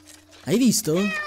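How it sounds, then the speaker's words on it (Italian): A cat meows loudly and close in the horror game Layers of Fear: Inheritance, two rising-falling cries in quick succession, while someone speaks briefly just before. "Un gattino!"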